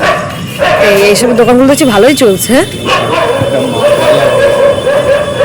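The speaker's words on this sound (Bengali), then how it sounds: "কুত্তা ডাকছে কেন এরকম করে" A dog barks and yelps in a rapid, excited burst beside a road, loud and close, while someone talks over the noise and traffic rumble continues around it.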